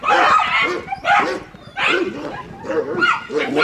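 A small dog barks and whimpers up close in a rapid series of loud, high yips and whiny cries separated by brief pauses.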